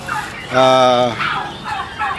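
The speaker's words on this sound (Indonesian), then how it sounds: "Ini juga termasuk kalkun hias." An ornamental turkey, such as a White Holland, gobbling in its pen: one loud, close, harmonic gobble in the middle, followed by fainter calls and soft background noise.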